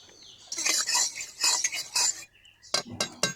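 A utensil scrapes and clinks around a hot wok with oil in several quick bursts, close by, with short pauses between strokes.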